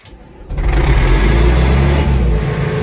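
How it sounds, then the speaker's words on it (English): An excavator engine surges as its throttle is pushed up, jumping from a quieter idle to a loud, sustained roar up close that holds high for a couple of seconds, with no talking. "Yep, that was throttle up"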